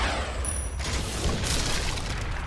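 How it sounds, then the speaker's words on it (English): Mortar fire in the 50 Cent: Blood on the Sand video game, a dense rumbling barrage of low booms with crackling bursts, fairly loud and continuous. "We're getting mortar fire though."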